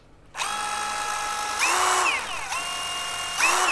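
A DeWALT 18-volt brushless impact driver whirs up to a loud, steady high-pitched whine, its speed dipping and rising again twice as the variable trigger is eased and squeezed, with no talk.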